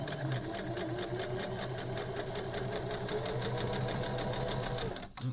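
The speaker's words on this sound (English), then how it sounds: "now I'm going to stitch those on the outside pieces" A sewing machine runs steadily, stitching the outside seams of small fabric box pieces, with a fast, even mechanical rattle throughout that stops abruptly near the end.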